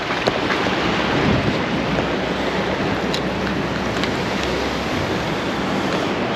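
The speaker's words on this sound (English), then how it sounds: "It's so windy." Strong wind at a waterfall fishing spot, with a steady, loud broadband rush of wind and water filling the whole stretch. No voices are heard.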